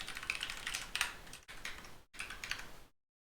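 Rapid clicking of computer keyboard keys comes in three quiet bursts separated by short silences, close and alone.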